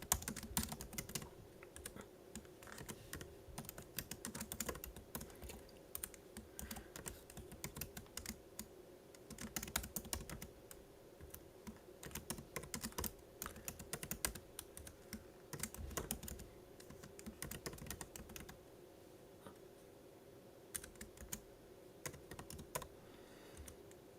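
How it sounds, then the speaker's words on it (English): Steady typing on a computer keyboard, soft rapid clicks in irregular bursts across the whole stretch, faint and close, with a low hum underneath and no talk. "You probably hear me clicking now."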